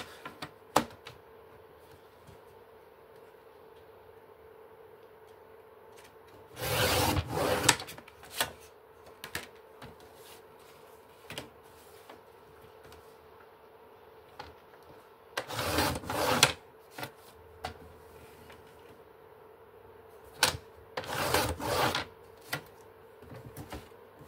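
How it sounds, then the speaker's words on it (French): Printed craft paper being cut, with three short, crisp rasping bursts spaced several seconds apart and faint small ticks in the quiet gaps between them. "Je vais venir découper tout ça."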